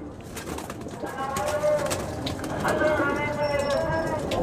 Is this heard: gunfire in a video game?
no